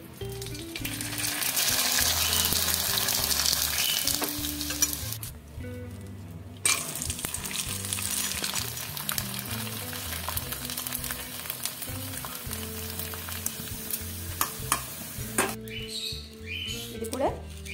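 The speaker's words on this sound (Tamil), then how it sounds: "நான் இன்னைக்கு வந்து வெத்தல் வடம் தான் பொரிக்க போறேன்." Oil sizzling as papads deep-fry, a bright crackling hiss that drops out briefly and returns, with a person talking over it and background music.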